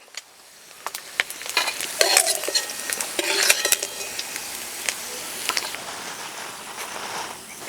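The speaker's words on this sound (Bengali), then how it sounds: "বাকি মাছগুলো এভাবে ভেজে নেব" Small mourala fish frying in hot oil in a pan, a continuous crackling sizzle punctuated by sharp spatula taps and scrapes against the metal, close up with no talking.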